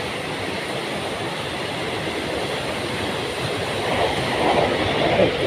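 A train passes on rails nearby with a loud, continuous rolling roar and rhythmic wheel clatter, swelling slightly toward the end, with no talk over it.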